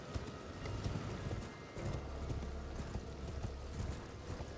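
Horse hooves galloping in the video game Elden Ring, a continuous rapid clip-clop of hoofbeats under a dense, busy game soundscape with a low rumble.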